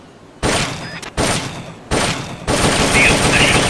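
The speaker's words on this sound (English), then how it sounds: "The M16's a standard assault rifle," An M16 assault rifle firing in Metal Gear Solid Peace Walker, several loud bursts of rapid fire broken by short pauses, the last burst running on to the end.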